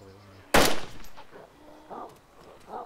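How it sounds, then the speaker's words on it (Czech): A single loud, close gunshot cracks out in the video game DayZ and decays quickly, followed by quieter scattered sounds and brief voices. "Střelba?"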